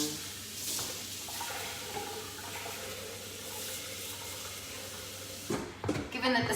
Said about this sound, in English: I'm going to give my bowl a really quick rinse, just with some water